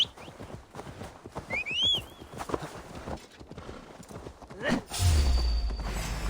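Rhythmic hoofbeats clip-clop at a galloping pace in the video game Assassin's Creed Valhalla, with a horse whinnying briefly and a low rumbling thud toward the end.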